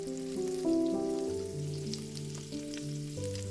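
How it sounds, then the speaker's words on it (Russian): Shrimp sizzle and crackle steadily in oil and butter in a hot pan, a soft continuous frying hiss with a tonal hum running underneath. "На горячую сковородку выкладываем креветки."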